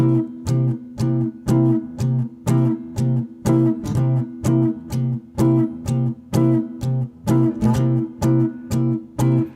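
Short, detached jazz guitar chords strummed in a steady pumping rhythm, each chord clipped off before the next, played clearly and alone.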